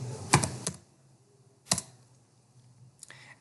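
A few sharp computer keyboard keystrokes typing a short command in AutoCAD, two clustered taps, then a lone tap after a pause, then a faint final tap, close and clear in a quiet room.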